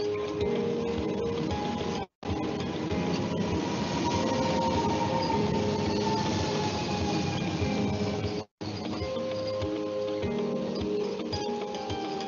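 A train pulls into a station with a continuous rumble, rattling wheels and faint squealing tones that shift as it slows. Two brief dropouts break the sound, and no one speaks.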